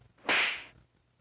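A single whooshing slash effect from a V8 sound card bursts in sharply, lasts about half a second, and fades out. It is heard alone over faint background noise, with no talking.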